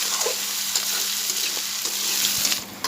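Spices frying in hot oil for a pork curry, a steady close sizzle with soft scraping stir strokes running through it, continuous and unbroken for the whole stretch with no voices.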